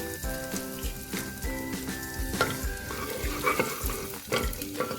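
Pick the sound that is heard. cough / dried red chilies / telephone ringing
dried red chilies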